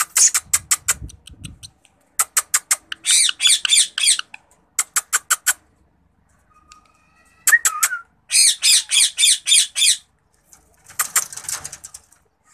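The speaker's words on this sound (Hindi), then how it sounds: "ये मादी तो शायद बड़ी है, ये बोल भी रही है, ये देखें।" A female ring-necked parrot in a breeding setup gives loud, harsh squawking calls in repeated rapid bursts, separated by short pauses and a few softer chirps, with no talking.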